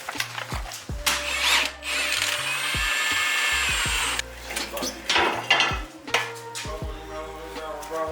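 A power drill whirs in several bursts, drilling a hole to mount an air suspension cup on an Infiniti G37x sedan, revving up and winding down, with clunks and clatter of tools between runs, close by.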